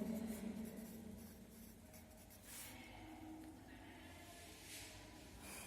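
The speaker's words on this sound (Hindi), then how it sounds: "तो वहां पे हम लिखते हैं मैथ्स बुक।" Pen writing an answer in a maths book, faint soft scratching strokes in short bursts, close and quiet, with no talk over it.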